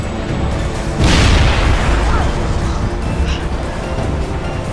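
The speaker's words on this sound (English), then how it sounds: "they used homemade bombs thrown in the direction of the sharks." Homemade bombs blast near sharks, a heavy boom swelling at about one second and rolling into a sustained roar of debris and rumble that carries through the rest of the moment.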